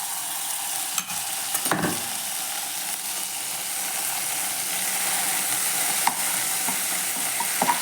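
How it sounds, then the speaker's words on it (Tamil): Butter melting in a kadai while cooking paneer butter masala, a soft continuous sizzle and fry with occasional light scraping clicks of a utensil, fairly quiet and steady. "ஒரு கடாயில் பட்டர் கொஞ்சம் சேர்த்துட்டு"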